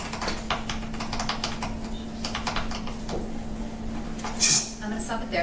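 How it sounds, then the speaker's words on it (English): Rapid light clicking of thumbs texting on a phone, heard during a courtroom hearing, with steady irregular taps over a constant low hum and room noise. "It sounds like we're hearing like a clicking sound as though you're texting."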